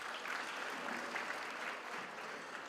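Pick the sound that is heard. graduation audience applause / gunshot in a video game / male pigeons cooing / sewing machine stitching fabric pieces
graduation audience applause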